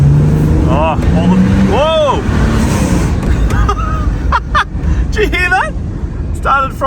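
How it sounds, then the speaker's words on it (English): A 2002 Ford AU Falcon drift car spins and fries its tyres, with rising screeching squeals over a loud engine, close by; someone talks over it, then shorter squeals follow near the end. "Started frying the tyres."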